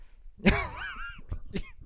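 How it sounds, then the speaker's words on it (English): A single harsh cough bursts out close by, followed by a couple of short raspy coughs or throat-clearing sounds trailing off. "He was coughing and inhaling."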